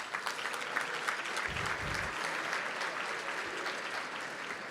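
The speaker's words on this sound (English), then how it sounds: "So give yourselves a round of applause." Steady audience applause at the One Water Summit in Minneapolis, a dense, even wash of clapping from a large hall, moderately distant and continuing without pause.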